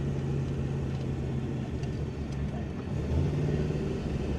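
A 1994 Dodge Dakota with a swapped LS V8 engine rumbles from inside the cab as it pulls through the gears, a low steady drone swelling slightly toward the end, with no talk.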